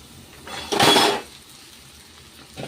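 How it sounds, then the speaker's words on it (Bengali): Dry pasta tipped into a pan of colorful vegetables with vinegar, a short clattering rattle and scrape lasting about half a second, followed by a faint second clink. "এবারে পাস্তাটাকে দিয়ে দিচ্ছি"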